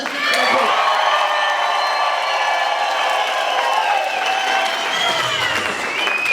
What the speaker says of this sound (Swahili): Jamani leta makofi.